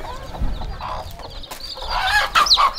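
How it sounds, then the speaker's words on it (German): A protective mother hen clucks in sharp, agitated bursts in a tropical rainforest while someone tries to catch her chick, with higher chick peeps and scuffling close by. "Ich werde jetzt einen Küken fangen und mich gegen diese Mutter hier anlegen."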